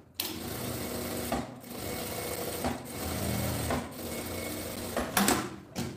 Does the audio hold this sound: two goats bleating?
no